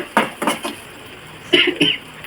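A utensil scrapes and clinks against a pan while fenugreek curry with garlic and turmeric is stirred in oil, giving a few close, sharp metallic strokes in two short bursts.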